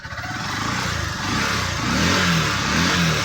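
A Supremo motorcycle engine runs at a steady idle near 1,100 RPM while the idle speed is being adjusted, a close, even mid-pitched putter with slight throbbing and no voices.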